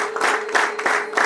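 Applause at a Rwandan wedding dowry ceremony: a dense burst of clapping from a gathered crowd, loud and close, with brief dips in rhythm throughout.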